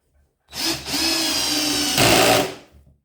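A Parkside PSBSA 20-Li C3 cordless hammer drill drives a thick screw into wood, one loud continuous whirring run of about two seconds that rises slightly in pitch near the end before stopping.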